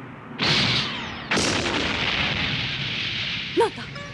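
Beam weapons fire in a Zeta Gundam anime mobile suit battle: two loud blasts trail off into long hissing decays, followed by a brief sharp zap near the end.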